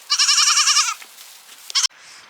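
Goats in a goat barn bleat loudly and close by in a long wavering call, followed by a short second bleat and softer barn noise.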